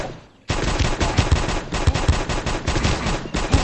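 Sustained automatic gunfire in the mobile shooter Guns of Boom, loud and dense, running for about three seconds after a brief quiet lead-in.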